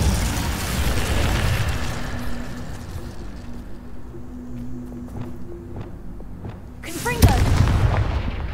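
An Incendio fire spell cast in Hogwarts Legacy, a rumbling rush of flame near the start that tails off, then a sharp bright burst and roar toward the end.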